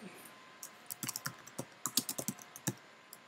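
A note is typed into a calendar app: a short, close run of light, irregular clicks and taps, some in quick clusters, with quiet gaps between.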